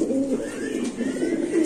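Pigeons cooing continuously, close by, at a pigeon seller's stall among the birds for sale, a soft rolling murmur with overlapping calls and no speech.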